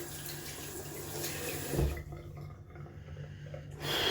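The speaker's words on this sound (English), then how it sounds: "gonna wash up the tub" Water runs from a tap to rinse out a shaving lather tub. The splashing flow is steady, thins out briefly midway and then surges back at full strength at the end.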